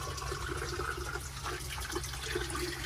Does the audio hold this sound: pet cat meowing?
no